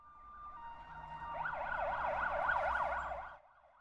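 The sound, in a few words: ambulance siren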